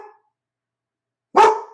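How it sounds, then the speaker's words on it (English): A dog lets out a single sharp bark, loud and close, after a moment of near silence, then the bark trails off quickly. "Sorry, that's the dog."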